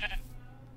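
A sheep in a video game's plains biome gives one short bleat at the start. The bleat is close and fairly loud, followed by quiet low background hum.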